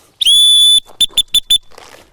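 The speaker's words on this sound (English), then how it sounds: "So I've got a whistle here." A dog training whistle sounds close and loud, first as one long, piercing held blast and then as four short, evenly spaced pips, with quiet in between.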